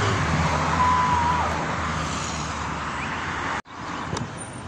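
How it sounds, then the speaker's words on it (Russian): A small tourist mini-car rolls past on a seaside boulevard in Adler by the Black Sea, a steady outdoor motor hum that fades slightly, with no talk. "Вот на таких машинках, мини-машинках возят приезжих"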